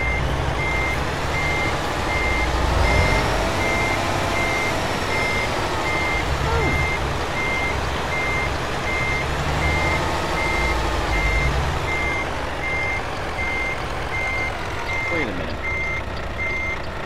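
A reversing truck's beeper sounds in a steady, evenly spaced series of tones over continuous loud engine rumble, close and sustained throughout.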